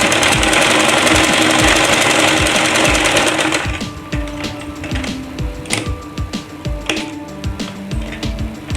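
A sewing machine stitches a salwar waistband. A fast, dense run of stitching is followed by slower, uneven bursts of needle clatter, close and loud.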